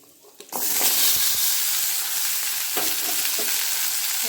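Onion and a piece of ginger sauté in hot oil for a country chicken curry. A loud sizzle bursts in at once and holds steady, with scattered stirring clicks.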